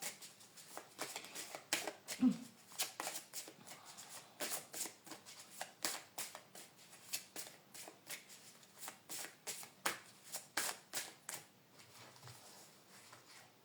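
Angel oracle cards are shuffled by hand in a sustained run of crisp riffling bursts, fairly close and steady, with brief pauses between shuffles and no talking.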